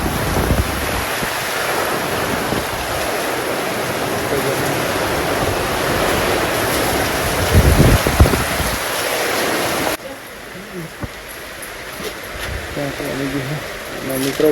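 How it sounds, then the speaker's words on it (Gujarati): Heavy evening rain pouring down steadily, a dense hiss that stays loud and constant, then thins and drops in level partway through; a voice talks over it in places. "આજે તો ફૂલ વરસાદ આવી ગયો"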